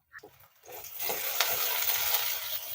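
Curry leaves drop into onion and garlic frying in oil for a sardine curry, setting off a steady, close sizzle with a few spoon stirs and knocks against the pan.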